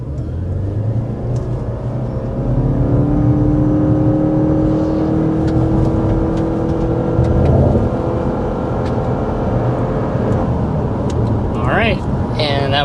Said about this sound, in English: we really need to start with a hard acceleration so you can see how that additional power is actually going to go